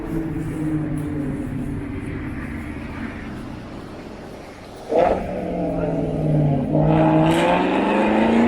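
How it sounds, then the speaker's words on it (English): A loud car revving on a narrow downtown street in Toronto's Queen Street West area, its engine note rising and falling in pitch, with a sharp surge midway and sustained revving after under city ambience. "There's no need for your car to be that noisy."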